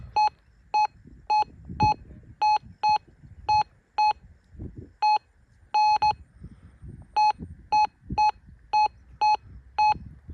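A Profind 40 metal detector gives a run of sharp, evenly pitched electronic beeps, about twenty short pulses in quick clusters with brief gaps, loud and close over faint rustling handling noise.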